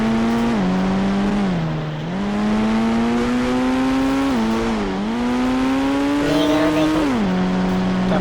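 In the Indian Bikes Driving video game, a stolen car drives off with a synthetic engine tone that revs up and down through several gear shifts, loud and steady.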